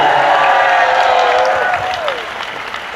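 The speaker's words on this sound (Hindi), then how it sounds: "अपने लिए जोरदार तालियां बजा दो।" Crowd applause at a press conference, a steady wash of clapping throughout with a voice or whistle-like tone sliding over it partway through.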